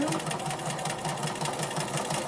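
A sit-down sewing machine stitches during free motion quilting with ruler work. Its rapid, steady mechanical hum runs close and continuous throughout, with no talk.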